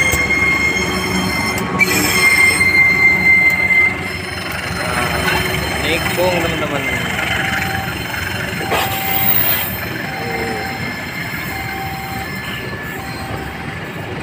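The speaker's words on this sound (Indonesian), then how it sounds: "kalian bisa ke Purwakarta ya, naik kereta ini." A passenger train bound for Purwakarta rolls along loudly with high metallic wheel squeals ringing out repeatedly, while a voice speaks briefly near the start.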